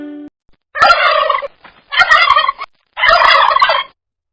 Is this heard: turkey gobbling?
yes